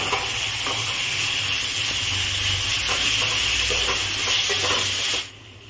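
Taro leaves stirred into cooked-down masala and hot oil for a prawn dish give a steady loud sizzle with faint stirring scrapes, continuous for about five seconds before dropping to a quieter hiss.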